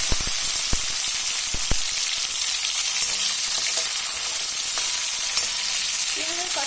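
Onion and green chili frying in hot oil give a steady, close sizzle with a few sharp stirring clicks and scrapes, running without a break and with no talking.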